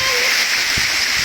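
A waterfall roars as broad, steady rushing noise with a cool breeze outdoors, loud and continuous throughout, with a brief low thump partway through.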